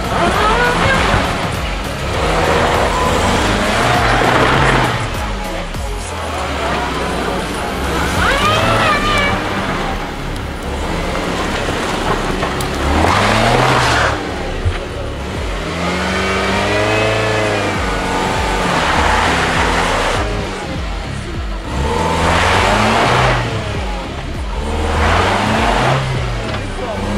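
A Skoda Tiguan SUV off-road, engine revving hard in repeated surges while one wheel spins freely in the air, loud and close, with voices talking over the engine throughout.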